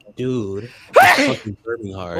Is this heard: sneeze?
yes